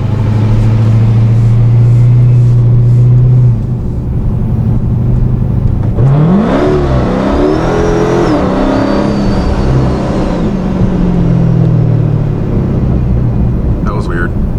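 Supercharged 426 Scat Pack car under boost, a loud close cabin drone that swells into rising, revving engine pitch sweeps as it accelerates, then settles back, with a voice speaking over parts of it.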